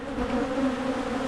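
Honeybees swarming close around a small nuc hive, a dense steady buzzing drone heard up near the face with no voices.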